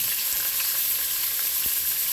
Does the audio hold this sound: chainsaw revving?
no